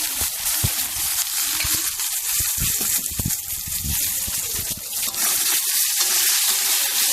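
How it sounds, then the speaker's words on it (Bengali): Finely chopped onions dropped into hot oil and frying in a home kitchen, giving a steady loud sizzle and hiss throughout, with crackling pops and no talking. "তেল গরম হয়ে গেছে এবার এতে ছাড়া হচ্ছে গোটা পেঁয়াজ কুচো কুচো করে কেটে রাখা পেঁয়াজগুলো ছাড়া হচ্ছে"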